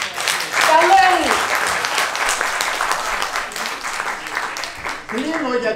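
Audience applause at a public meeting about the Polichnitos hot springs, dense clapping running loud and steady throughout, with a voice speaking briefly over it near the start and end.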